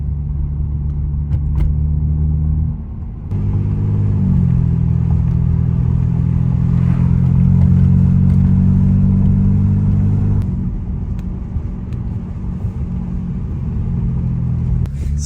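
A BMW E90 sedan driving, its steady engine rumble and road noise holding throughout with a brief dip near three seconds, then a fuller, rising drone as it pulls along before easing slightly toward the end; no one speaks.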